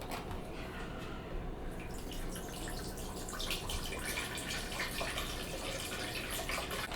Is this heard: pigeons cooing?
no